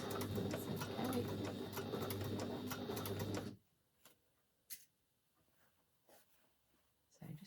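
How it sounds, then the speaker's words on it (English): A sewing machine back-stitches the top of a waistband seam, a fast close whirring run of needle strokes for a few seconds, then stopping, followed by faint handling sounds and a little speech. "I'm just going to stitch a couple back stitch at the top, so that will be within your waistband."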